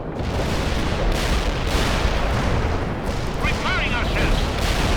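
Anti-air guns fire in a video game battle, a dense continuous barrage of booming shots and rumbling blasts that stays loud throughout, with voices speaking over it.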